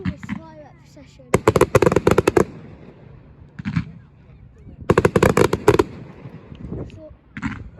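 Fireworks go off in rapid crackling volleys: two long, dense bursts of sharp bangs, separated by quieter gaps, with shorter isolated pops between and at the end. They are loud and close.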